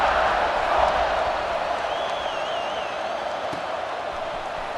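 Football stadium crowd at an Ohio State versus Alabama game cheering in a loud, sustained roar that eases slightly over a few seconds, with a faint whistle rising briefly within it.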